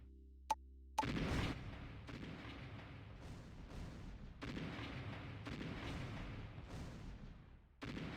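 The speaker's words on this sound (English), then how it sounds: "See artillery here, taking that lone scout out." Artillery fire in a strategy video game: a short click, then a sustained stretch of repeated heavy booms and blasts that roll on one after another at steady loudness, with no talking.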